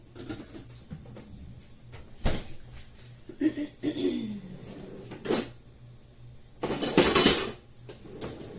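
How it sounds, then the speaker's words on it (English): Muffin batter scooped with a yellow scoop into a greased pan, soft scrapes and clinks of the scoop against the metal tin in sparse bursts, with a louder rattling clatter near the end. "I've got a yellow scoop, and I'm just going to scoop my muffin batter into a greased pan."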